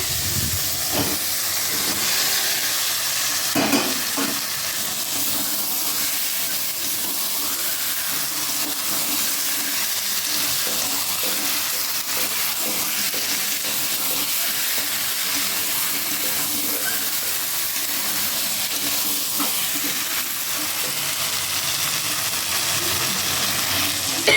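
Eggs fry in a pan with a constant dense hissing sizzle and scattered stirring scrapes, steady and close throughout.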